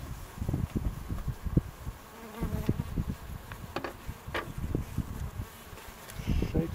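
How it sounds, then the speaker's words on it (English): Dense, steady buzzing of a swarm of honey bees while a hive is being installed, close and continuous with some louder bursts, no talk. "shake all the rest of these bees"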